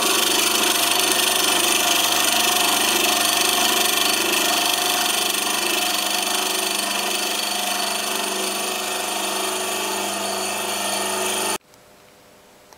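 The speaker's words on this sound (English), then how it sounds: "Mortiser." A mortiser runs in a home workshop, giving a loud, continuous mechanical whine and motor drone close to the microphone that holds steady for about eleven seconds, then cuts off abruptly.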